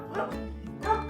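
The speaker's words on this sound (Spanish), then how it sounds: "Todos los ladridos que escuchas en cada capítulo son sus voces originales" A Kromfohrländer dog barks twice, close and loud, each bark a sharp harmonic yelp with a short gap between.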